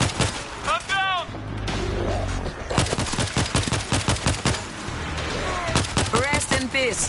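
Rapid gunfire bursts crackle through a World War Z Aftermath match, dense repeated shots up close, with game character voices and shouting mixed in between the volleys.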